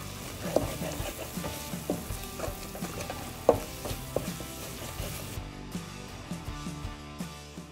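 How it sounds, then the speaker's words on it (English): Gari jollof simmering with stock in a pot over medium-low heat, a soft continuous sizzle and bubbling broken by sharp clinks and taps of a utensil against the pot, close and moderately quiet. "I'll then leave it to simmer for about 2 to 3 minutes on a medium low heat."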